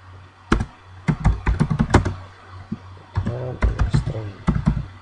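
Rapid clattering keystrokes on a computer keyboard while C++ code is typed, coming in quick uneven bursts with brief pauses, close and clear, with a voice speaking between some of the runs.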